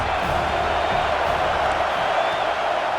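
A stadium crowd at a football game keeps up a loud, continuous roar of cheering and shouting from start to finish, dense and unbroken, with a commentator's voice partly blended in.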